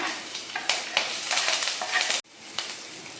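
Ginger, onion and curry leaves frying in hot oil in a pan for a pork dish, a loud crackling sizzle with repeated stirring scrapes, briefly cut off before the frying resumes.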